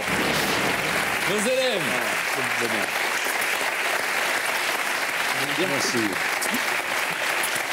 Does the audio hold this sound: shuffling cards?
no